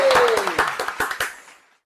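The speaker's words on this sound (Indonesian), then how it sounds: "Beri tepuk tangan pada mesin." A short burst of scattered hand clapping and applause from a small group, with a descending electronic tone beneath, fading out quickly.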